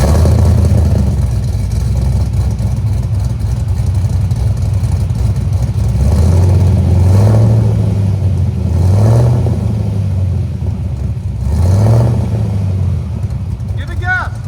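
A car fitted with a Carven TR muffler idles with a steady low exhaust drone, then revs three times in short rising swells, close and loud, with voices talking over it.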